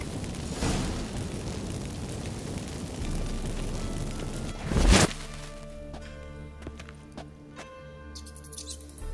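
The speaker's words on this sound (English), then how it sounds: "Get ready for some magic fireworks." A magic fireworks explosion in the video game The Witcher 3 bursts with a hissing whoosh that builds to a sharp boom, then gives way to quieter crackles and chirps.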